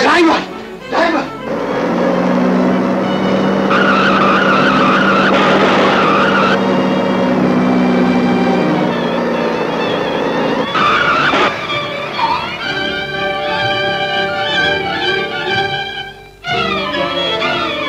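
A car in a 1956 film tears away with a long, loud screech of skidding tires. The engine roars under the squeal for several seconds, then harsher tonal scraping and shouting voices take over before it cuts off.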